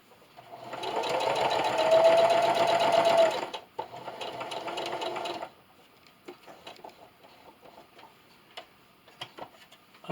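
A sewing machine stitches along the edge of a towel in a fast, steady mechanical whir for a few seconds, pauses, runs a shorter burst, then stops, leaving faint clicks and handling noise.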